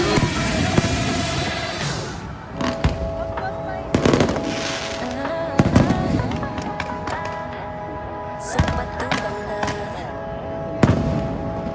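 A grand fireworks show bursts at SM Mall of Asia, with repeated sharp booms and crackles at irregular intervals over music and crowd noise.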